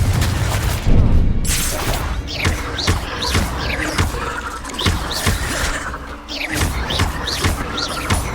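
Confringo spell explosions in Hogwarts Legacy, repeated thumping booms at a steady pace over a dense, noisy battle background, loud and close.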